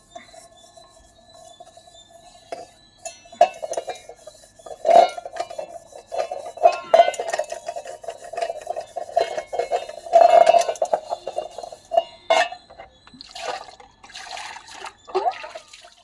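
A tea vessel being washed, with metal scraping and clinking against a steady trickle of running water; the sounds come in short irregular bursts, close and fairly quiet.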